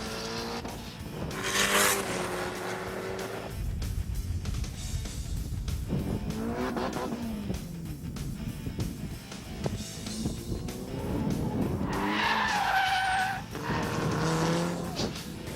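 Japanese import cars running timed race laps, engines revving and passing with tires squealing and skidding, loud and continuous with shifting pitch as they sweep by.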